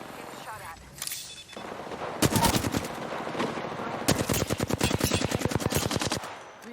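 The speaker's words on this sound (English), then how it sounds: "Getting shot at." Bursts of automatic gunfire in the battle royale video game Apex Legends, with rapid repeated shots in two long volleys separated by quieter moments, loud and close, with some game voice in the background.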